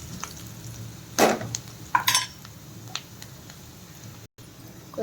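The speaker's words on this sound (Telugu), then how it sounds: "మళ్ళీ ఒకసారి కలుపుకుందాం." Fish fry with a pinch of turmeric is stirred in a pan: a few sharp metallic scrapes and clinks of a spoon over a soft, continuous sizzle, close by.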